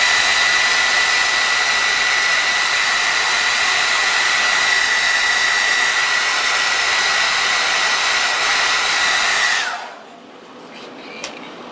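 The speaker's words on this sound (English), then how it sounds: "my hair dryer is loud" A loud hair dryer blows steadily with a whining high-pitched hum, then switches off near the end and winds down, leaving near silence with a faint click.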